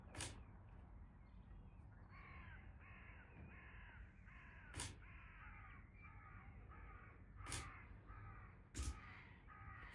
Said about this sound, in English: I think they're Canadian geese.